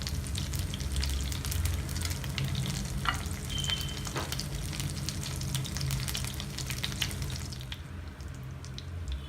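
Cinnamon, cardamom and cloves crackling in hot oil for paneer butter masala, a steady close sizzle with scattered pops and light clatter throughout, easing slightly near the end.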